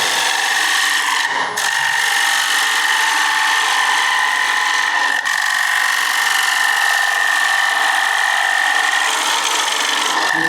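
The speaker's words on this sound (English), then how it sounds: "I'm going to go to the 60-degree gouge and I'm going to take away" Steady scraping cut from a 60-degree gouge on wood spinning in a lathe, a continuous close hiss with a sustained tone running through it and one brief dip early on.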